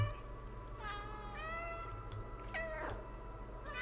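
A cat in the video game Stray gives several short, clear meows in a row, close and alone over a low background hum.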